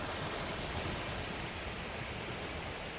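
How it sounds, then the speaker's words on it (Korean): Gentle sea waves wash onto a clean sandy beach as the tide comes in, a soft, steady hiss of surf with no distinct breaks and no voices. "깨끗한 모래사장 위로 잔잔한 파도는 마음을 편안하게 해줍니다."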